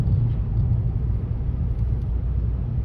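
Steady low rumble of a 2011 Volkswagen Scirocco 2.0 TDI diesel engine (Stage 1 tuned, 183 hp) and tyre noise on the road, constant and fairly loud, with no voices.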